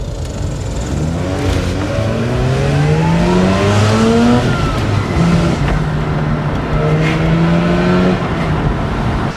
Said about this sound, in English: We're going to give her a little rev so you can see that she has no issues revving anymore.